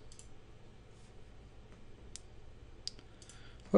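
Mouse clicks while editing a photography portfolio website's pricing page, a few sharp, faint clicks spaced apart over a low steady background hum, no talking.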